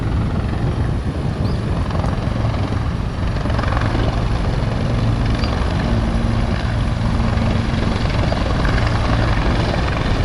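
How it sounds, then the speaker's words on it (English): Two helicopters departing Fort Lauderdale airport thump and drone loudly and continuously, a steady heavy chopping roar with no voices. "here we have two departing choppers from FLL"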